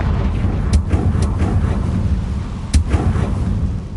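Confringo explosion spell in Hogwarts Legacy, a loud low rumble with sharp blasts bursting through, two distinct cracks standing out amid continuous booming.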